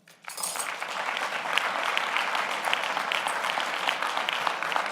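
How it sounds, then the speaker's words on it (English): An audience at an event on African Americans and voting bursts into applause for the performer Karima. The clapping rises quickly from near silence into a full, sustained round of many hands that stays steady throughout. "Can we give her another round of applause"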